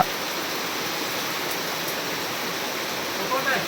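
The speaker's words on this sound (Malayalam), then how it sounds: "മഴയാണോ മഴ" Rain falls as a steady, even hiss of broadband noise, fairly close and constant throughout, with a faint voice near the end.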